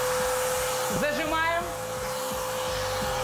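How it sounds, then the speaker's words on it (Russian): A Kärcher washing vacuum cleaner runs throughout, a steady loud whine with motor hum, cleaning soft furniture or carpet stains; a brief spoken word sits over the drone. "у них теперь есть помощник моющий, пылесос Керхер"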